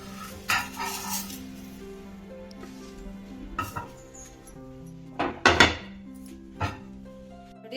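A cooked rice rotti, an akki rotti made with leftover rice, is handled onto a plate in a home kitchen, giving a few scattered clinks and taps of utensils and dishware against a steady background hum.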